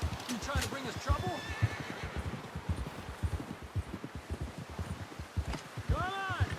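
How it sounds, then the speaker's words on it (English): Horse from Red Dead Redemption 2 neighing and whinnying loudly with clip-clopping hooves beneath, set in a game scene where characters talk and shout alongside the animal. "Someone help John down off this horse."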